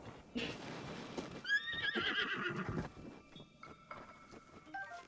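A horse in Zelda: Breath of the Wild whinnies and neighs loudly, with a long shrill whinny midway and hoof clip-clops and game effects around it, no speech.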